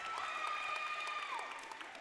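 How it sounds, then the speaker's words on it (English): Spectators at a junior varsity high school volleyball match clap and cheer continuously, a dense wash of applause with shouting voices rising above it, heard from within the gym. "The crowd goes wild."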